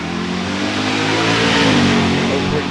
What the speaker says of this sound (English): RPMs come up.